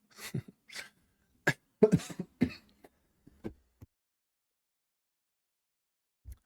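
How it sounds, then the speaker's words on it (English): Several short, sharp coughs and throat-clearing bursts in quick succession, close and fairly loud, then quiet with a faint final cough. "I guess I can't laugh without coughing"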